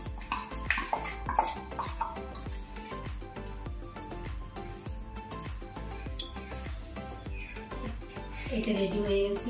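Grated coconut being stirred with jaggery in a metal pot, giving repeated scraping and clanking knocks of a utensil against the pot in a steady rhythm, with a voice speaking over it.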